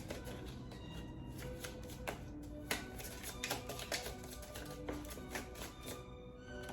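Tarot cards shuffled by hand, a soft quick riffling and tapping texture close by, fairly faint and steady, with no talking.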